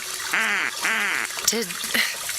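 A person vocally imitates a duck, giving two long nasal quacks followed by a couple of shorter ones, close and clear in a quiet room.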